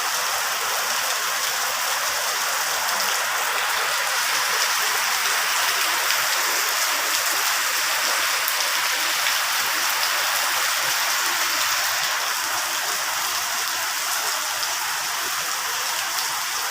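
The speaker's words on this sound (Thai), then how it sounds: "ฝนตกฝนตก" Steady, dense rain pours down outdoors in the Thai countryside, a continuous even hiss of drops on surfaces that stays close and loud throughout, with no voices.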